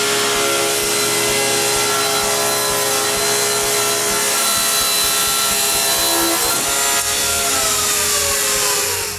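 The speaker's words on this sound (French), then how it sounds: "Finalement, le 4e côté, il est coupé au banc de scie." A table saw rips the fourth side of a wood board in a workshop, a loud sustained motor whine with the grinding rasp of blade through wood, steady throughout.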